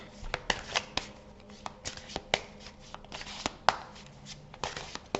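Tarot cards being shuffled and handled at close range, a run of sharp riffling slaps and flicks in irregular bursts.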